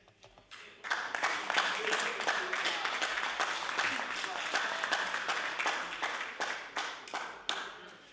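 Colleagues applauding in the House of Assembly chamber, a steady burst of clapping from many hands lasting several seconds before tapering off, moderately close and fairly loud.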